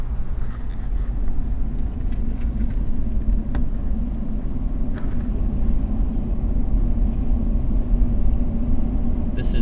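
A car driving along Blandford Drive, an old road heading toward Fort Vancouver, heard from inside as a steady low road and engine rumble, loud and continuous with faint clicks and no talking.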